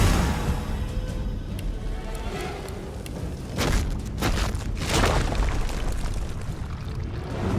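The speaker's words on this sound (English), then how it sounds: "Oh, he has a fireball." Fireball exploding in Divinity Original Sin 2 combat, a dense rumbling roar with crackling bursts and fiery swells that stay loud and sustained throughout, with no talking.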